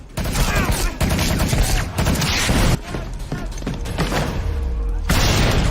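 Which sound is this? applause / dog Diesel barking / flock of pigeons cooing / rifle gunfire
rifle gunfire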